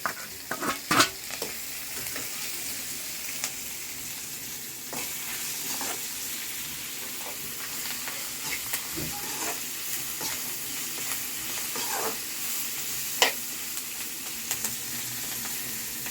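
Ingredients are sautéed together in a pan for an old-style home meal, giving a steady sizzle broken by repeated spatula scrapes and taps, some close and sharp, with no talking.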